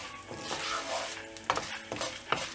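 Urad dal and chilies frying in oil for kothamalli thogayal, a close sizzle punctuated by several quick spatula stirs and scrapes against the pan; no talking.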